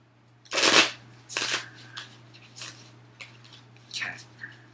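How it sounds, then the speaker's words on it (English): Tarot cards are shuffled in a few quick riffling bursts, close and crisp, with softer card handling between them and no speech. "do I put the card back in and then reshuffle?"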